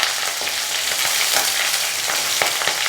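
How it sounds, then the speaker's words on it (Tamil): Small sambar onions and a green chili sauté in a pan with a loud, continuous sizzle and faint stirring scrapes, close up and without talk. "கூடவே ஒரு பச்சை மிளகா போட்டு இதை முதல்ல லைட்டாக வதக்கிக்கலாம்."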